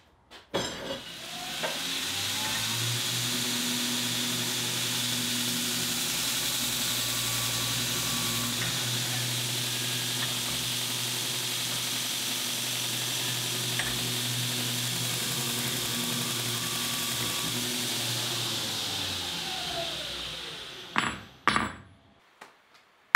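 An electric grinder works steel blacksmith hammer dies in a steady, loud, continuous whine with a low motor drone for about twenty seconds. It then spins down, followed by a few sharp metallic knocks.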